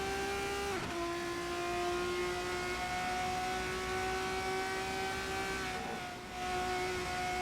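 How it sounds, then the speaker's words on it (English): Formula 3 race cars in a sim racing game at Silverstone, engines held at full throttle with steady high-pitched tonal whine, brief dip near the end like a gear change or car passing, continuous and fairly loud with no talk. "Hard on the power they go as they go full throttle over the line"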